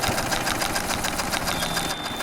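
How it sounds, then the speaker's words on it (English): Sewing machine stitching fabric for a plush toy, a steady fast mechanical chatter with rapid repeated needle strokes running throughout at close range. "Hey, sewing machine, hurry up!"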